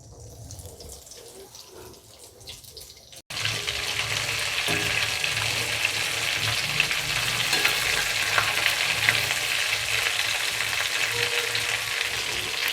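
Breadcrumb-coated paneer snacks fry in a kadai of hot oil, a steady loud bubbling sizzle that begins abruptly after a few seconds of quieter kitchen noise and holds on evenly with no talking.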